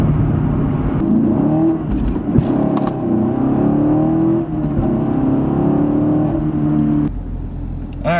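A 2016 Camaro SS 2SS accelerating hard at full throttle, its V8 drone rising in pitch through the gears with brief dips at shifts, loud and close from inside the cabin, no talk.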